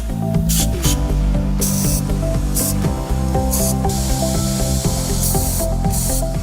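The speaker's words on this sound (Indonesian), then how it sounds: "Gunakan karburator cleaner untuk membersihkan kotoran-kotoran atau jelaga-jelaga yang menyumbat di saluran-saluran karburator. Semprotkan juga di bagian choke hingga bersih." Carburetor cleaner sprayed in bursts onto the carburetor and choke of an outboard boat motor, a loud steady hiss broken by several short, sharp spray pulses, heard alone without talk.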